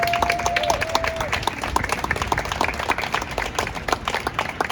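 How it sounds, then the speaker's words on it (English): An audience at a PhotoVoice exhibition opening claps for the participating artists, dense scattered applause that is close and steady throughout, with a brief tone near the start. "So I ask you to applaud them for their courage"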